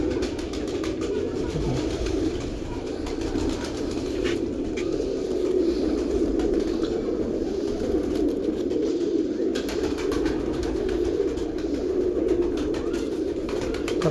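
White-tailed breeder pigeons coo continuously in a close, busy loft, with a low, dense murmur of overlapping calls and light rustling throughout.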